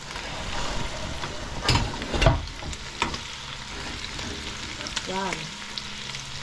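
Broth poured into a sizzling pan while making macaroni soup, a steady loud fry hiss with a couple of sharp splashy bursts partway through and a brief voice near the end.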